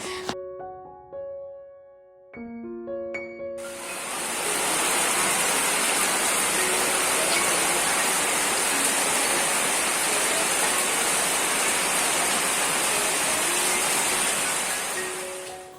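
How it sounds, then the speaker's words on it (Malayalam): Heavy rain pours steadily on arrival at a house, a loud, dense roar that begins after a few seconds of quiet melodic tones and then holds without letup to the end. "അപ്പോൾ വീട്ടിലെത്തിയപ്പോഴേക്കും നല്ല മഴയായിരുന്നു കേട്ടോ"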